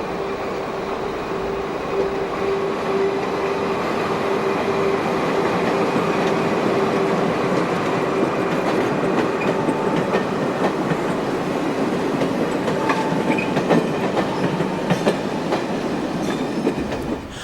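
A Portuguese CP class 2551 AC electric locomotive hauling a train, a loud continuous rumble of running wheels with clickety-clack rhythm and a faint steady tone, heard up close without speech.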